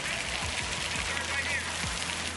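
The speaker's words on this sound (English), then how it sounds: "there's the rain" Rain falls in a steady, dense hiss with a few soft low thumps, continuous across a short stretch.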